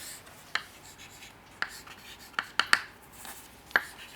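Writing on a board during a maths lesson on polynomials: six sharp, sparse strokes and taps at irregular intervals, close and fairly quiet against a faint room hush, with no talking.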